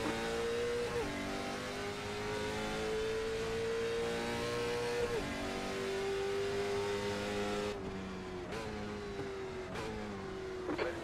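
Trans Am and Supercars Gen 3 race cars in a racing video game, engines revving continuously with rising and falling pitch as gears shift, with sharp upshift breaks near the end, loud and close throughout.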